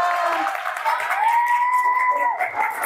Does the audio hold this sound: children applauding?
yes